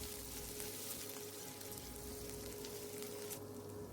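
Black cumin (nigella) seeds and onion paste sizzle in hot oil for a pumpkin-leaf curry, a steady, even hiss that holds close and unbroken with no voices.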